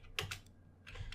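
Typing on a computer keyboard, a few soft clicking keystrokes close by in a short burst, with a brief gap in between.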